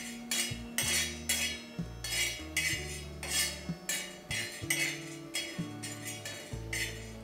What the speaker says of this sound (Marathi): तर आता इथे मी पहिल्यांदा चण्याची डाळ छान व्यवस्थित भाजून घेते।